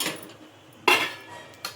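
A metal spoon clinking against a cooking pot on a stove: three sharp, bright clinks spaced unevenly, the middle strike loudest, with quiet pauses between.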